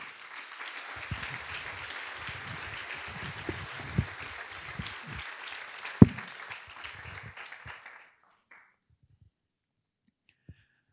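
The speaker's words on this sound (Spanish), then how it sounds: "Les damos un fuerte aplauso." Church congregation applauding a welcomed visitor, a dense crowd of clapping that holds steady then stops abruptly, a few stray claps trailing into near silence.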